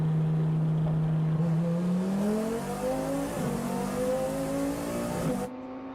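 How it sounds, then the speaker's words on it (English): A KTM X-Bow race car accelerates hard after its pit limiter is released at Slovakia Ring during an FIA CEZ endurance race. The close, loud engine note climbs steadily in pitch through several gear changes, then cuts off abruptly. "It is always great to see and hear the car almost come back to life after disengaging the pit limiter."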